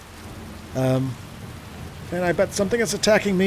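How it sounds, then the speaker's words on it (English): Steady rain falling in the video game Skyrim forms a soft hiss beneath a voice, which comes in briefly early on and again through the second half. "I'm freezing in the rain"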